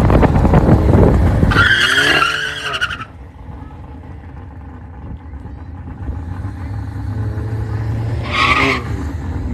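Cars launch in a drag race with loud tire squeals and screeching bursts, the first near the start and another later, over a low engine rumble. Premium cars, including a Volkswagen Golf R.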